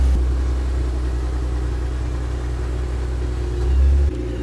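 Engine of a pop-up headlight Acura NSX running steadily as the car reverses, a continuous low rumble with a slight swell near the end before easing back.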